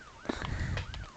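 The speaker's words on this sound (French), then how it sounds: "Ouais, ça ressemble exactement à des sirènes." Rising and falling sirens sound outside in the dark, a brief wailing sweep under clattering nearby noises and low rumble, moderately loud.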